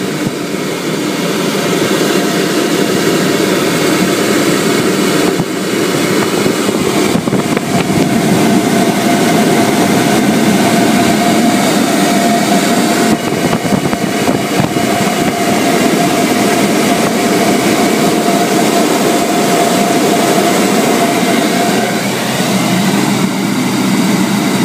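A flowbench pushes air through a TVR intake plenum at increased flow, giving a loud, steady roaring rush with a faint tonal whine held throughout.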